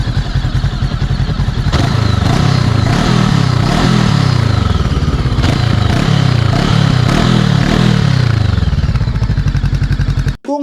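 FKM Express 500 SC motorcycle, a 500cc parallel-twin, idling loud and close, then revved repeatedly in rising and falling bursts before cutting off abruptly at the end.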